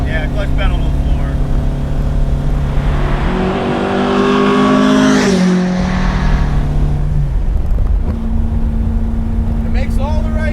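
Modified 1966 Alfa Romeo Giulia GT engine roaring loud and close, revs climbing in a steady pull, dropping at a gear change, then building again, with talking under the engine noise.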